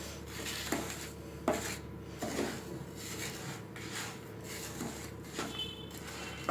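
Rawa upma semolina mix being stirred in a pan, with soft scraping and scattered clinks of a utensil against the pan at an irregular pace, fairly faint over a steady low kitchen hum.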